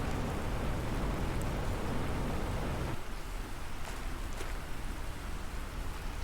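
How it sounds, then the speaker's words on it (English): Rain falling on an alien world in The Planet Crafter, a steady broadband hiss with scattered drops, heavier at first and then lightening to a softer patter. "I'd like to enjoy this rain, though, with you for a minute."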